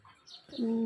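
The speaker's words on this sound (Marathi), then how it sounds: "सकाळी खूप पक्ष्यांचा आवाज किलबिलाट" A single bird call in the morning on a farm, a soft rising note that settles into a steady cooing tone, heard fairly close and alone.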